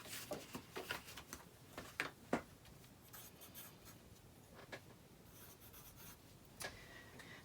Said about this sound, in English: Next, you'll draw in the collar shape.